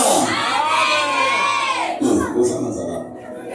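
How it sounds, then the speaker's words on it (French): Church congregation cheering and acclaiming the fathers at a Sunday service, a loud close burst of many voices shouting and whooping together, with children's high cries rising and then fading out. "Acclame pour mes papas."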